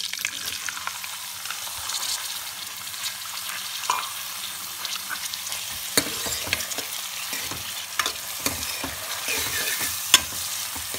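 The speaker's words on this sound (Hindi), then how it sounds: "प्याज को हमने अच्छे से गोल्डन ब्राउन कर लेना है।" Onions frying in oil for palak paneer are stirred repeatedly in a pan, a steady moderate sizzle broken by irregular spatula scrapes and taps over several seconds, with no speech.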